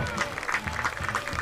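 Crowd applause at a high school football game, Arlington Catholic against Arlington, with steady clapping sounding through an announcer's voice across the whole short stretch.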